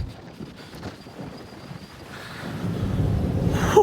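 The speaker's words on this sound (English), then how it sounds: "Oh, it's so windy." Gusty wind buffets the microphone over rushing sea noise on a ship nearing Ushuaia, the roar swelling louder toward the end.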